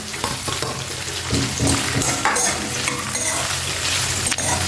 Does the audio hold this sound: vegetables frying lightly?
yes